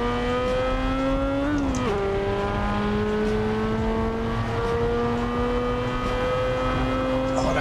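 Car engine in Assetto Corsa on the Nordschleife, revving long and steady in third gear with one brief dip at a shift, loud and close throughout, speech faint beneath.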